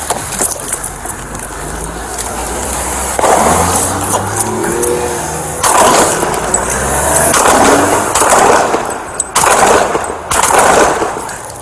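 Gunfire in a street shootout between police and a suspect at La Brea and Beverly, sharp broadband bangs scattered across the clip, some in quick clusters, over a steady low rumble of traffic and radio noise.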